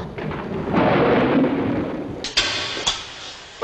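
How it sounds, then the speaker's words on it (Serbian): Thunder rolls through a storm, a long broadband rumble that swells and fades, followed by two or three sharper cracks near the end, loud and close. "Grmi, sjeva, kiša. Evo, baš ko sad."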